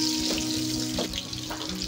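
Garlic and small onion frying in oil for Chinese-style stir-fry pork, a close steady sizzle with soft crackles and faint scraping in the pan.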